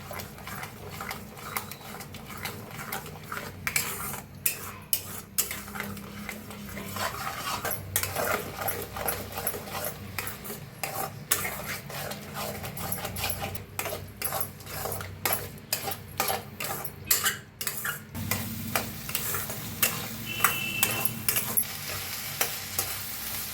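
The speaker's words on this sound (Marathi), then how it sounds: "पुन्हा मिक्स करून घेऊया सगळे अंडे मसाल्यात." Eggs being stirred into masala in a pan for street-style bhurji, with a low sizzle under repeated scraping and clinking of a spatula against the pan, close and continuous.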